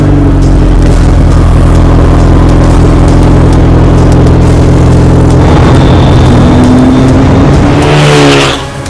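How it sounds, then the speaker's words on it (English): A turbocharged EcoBoost engine in a 2018 Roscion Q1R, a full naked-carbon car, roars loud and close in a steady sustained drone, rising near the end with a whistling turbo note before cutting off. "It's powered by an EcoBoost motor. It has a turbocharger, and it sounds like a whistling jet."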